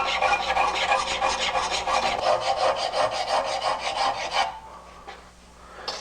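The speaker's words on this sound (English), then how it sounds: "clean up those file marks" Rapid, rhythmic rasping strokes of a metal file cleaning up a brazed joint in bicycle framebuilding, loud and close, which stop abruptly near the end.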